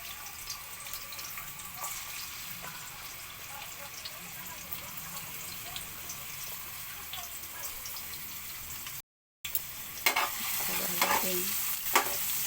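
Onions drop into hot oil in a home kitchen cooking ampalaya with sotanghon, giving a soft, steady sizzle that swells into louder crackling and stirring noises after a brief gap.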